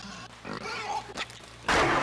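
A pig in the video game Inside grunts and snorts in rough bursts, ending in a loud, close squealing rush.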